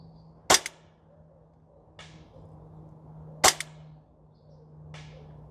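A Novritsch SSP28 airsoft pistol fires at long-range targets on an outdoor range. Two sharp, loud shots ring out about three seconds apart, each followed by a fainter, duller hit, with no talking.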